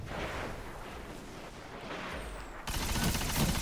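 Necrochasm exotic auto rifle firing in the Destiny video game, with bursts of gunfire and a loud explosion effect cutting in near the end, no talking.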